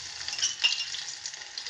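Green garlic dropped into a bowlful of hot oil crackles and sizzles briefly at close range, a busy bright fizz with a small pop partway through.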